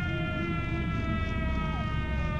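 Siren Head from a horror game wails in a loud, sustained, droning siren tone with steady layered pitches and a slight downward bend, heard close and unbroken with no talking.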